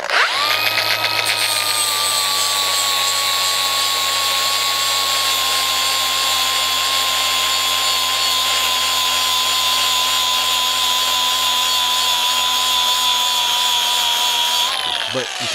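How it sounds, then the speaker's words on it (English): A battery-powered grinder shaves down the tray of a 2001 EZGO TXT 36-volt electric golf cart, its battery almost dead. It runs as one continuous, steady whine with a low hum underneath, loud and close, then cuts off at the end. "you can probably hear the grinder is struggling a little bit because the battery's almost dead"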